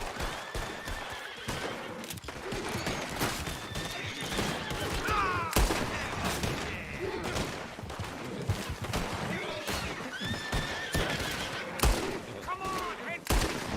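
Gunshots ring out amid a busy Western game soundscape in Red Dead Redemption 2, with horses whinnying and hooves clopping, sharp bursts scattered across the scene over constant background noise and occasional voices.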